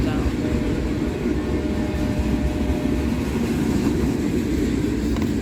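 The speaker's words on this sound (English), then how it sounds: "This is a very interesting train, just due to all of the different cars" A CSX freight train with a mix of car types rumbles past on the Grand Rapids subdivision, a loud, continuous low roar of rolling wagons with faint rail squeal and steady clatter throughout.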